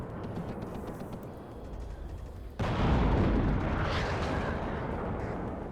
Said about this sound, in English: And we got some mortars coming on the left side